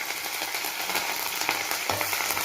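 Curry leaves, dried red chillies and cumin sizzle and crackle steadily in hot oil for a spinach dal tempering, a continuous close frying hiss with small pops and a light stirring scrape.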